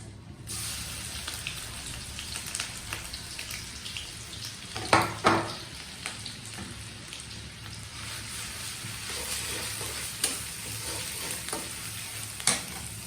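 Onion paste fries in a pan for a bitter gourd and potato curry, giving a steady soft sizzle with occasional louder stirring scrapes and clinks around the middle and near the end.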